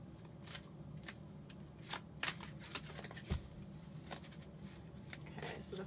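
Tarot cards are shuffled in soft, quick riffles and slides, with a few sharper snaps between quiet stretches, heard close up and at low volume.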